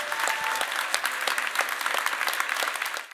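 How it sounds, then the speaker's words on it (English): A crowd at a mayor's transition committee meeting bursts into steady, dense applause, loud and sustained with no voices over it. "A round of applause."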